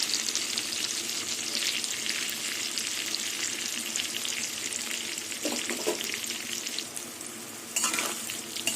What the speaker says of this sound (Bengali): পটলটা এমনি ভেজে নেবো এখন ভালো করে